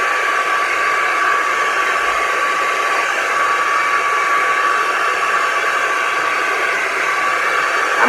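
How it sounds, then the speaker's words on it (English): A hair dryer running on setting 2, capped at 220 degrees, used to blow-dry thick natural hair: a loud, steady airy roar with a constant whine, unbroken for the full stretch. "I'm going to be putting my hair dryer to 2"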